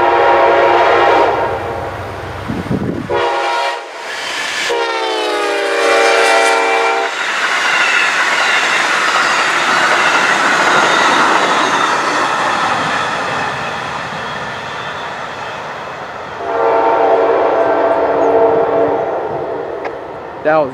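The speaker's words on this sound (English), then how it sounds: "That was Amtrak P090" Amtrak P090 passenger train, northbound, passes close and loud with a long blaring horn, then a steady roar of rail cars clattering by, followed by a second horn blast near the end.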